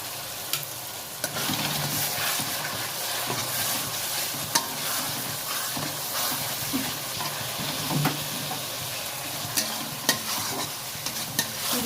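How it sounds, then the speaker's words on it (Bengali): Ground spices, chilli powder and salt being stirred and fried in hot oil for an egg curry, a steady close sizzle with repeated scraping stirs throughout and no talk. "দিয়ে ভালো করে কষিয়ে নিতে হবে"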